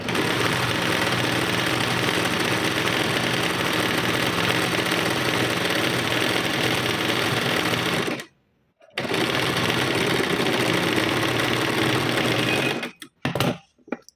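A sewing machine runs steadily and loudly as it stitches a half-inch tuck on a blouse, pausing briefly partway through before resuming, then stopping with a few short final bursts.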